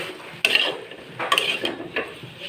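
Sugar being stirred into a Bengali vegetable chochori of cauliflower, potato and drumstick stems in a pan, with a few distinct scraping and clinking strokes of a spoon against the metal, close and moderately loud, no talking.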